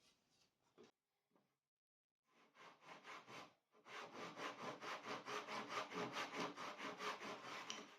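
Hand sawing wood pieces for a birdhouse: a few hesitant starting strokes, then a steady run of rhythmic back-and-forth rasping strokes, close and clear.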